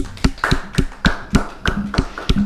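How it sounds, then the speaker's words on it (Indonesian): Steady, evenly spaced hand claps ring out close by, about eight in quick rhythmic succession, with no voices over them, for an Arabic teacher from Darul Quran Baituna as a podcast opens. "Kasih tepuk tangan dong."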